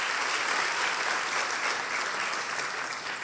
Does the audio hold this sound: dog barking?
no